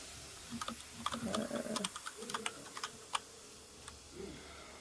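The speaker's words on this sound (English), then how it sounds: "Can you mute your keyboard?" Loud clicking of a computer keyboard during an online tabletop horror roleplaying session, with quick, irregular bursts of keystrokes, alone and fairly close, trailing off to a few isolated taps.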